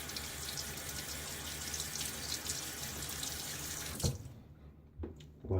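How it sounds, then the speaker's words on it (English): Water from a tap runs steadily while a Gillette Silver Blue safety razor is rinsed of shaving lather, the flow cutting off near the end, leaving a few faint drips and clinks. "Lather's rinsing easily from the razor"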